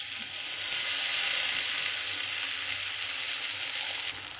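Rice paste added to hot oil in a pan for rice kurma, giving a steady loud hiss of frying that holds evenly for a few seconds with no talk.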